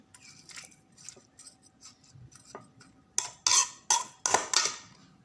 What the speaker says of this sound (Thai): เราตั้งหม้อแล้วเปิดไฟเลยค่ะ